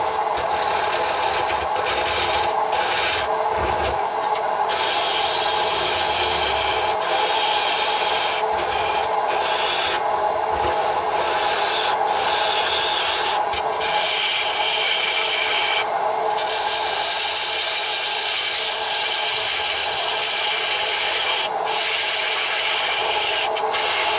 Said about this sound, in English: We'll sand this, put some sanding sealer on, and then put some finish on.